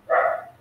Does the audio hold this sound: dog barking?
yes